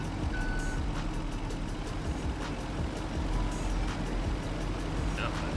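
A truck idles and rumbles close behind in the game Vertical Farming Simulator 25, a constant low engine drone with faint beeps and clunks over it, while a voice talks faintly underneath.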